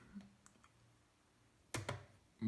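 Keys clack on a Lenovo Y gaming keyboard, a few faint scattered taps followed by two sharp louder keystrokes and a final strong press, close and alone in a quiet room.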